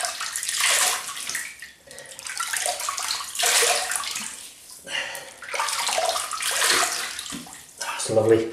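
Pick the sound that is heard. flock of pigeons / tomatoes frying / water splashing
water splashing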